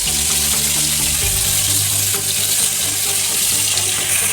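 Pieces of katla fish fry in hot oil in a pan, giving a loud, steady, close-up sizzle that holds without a break.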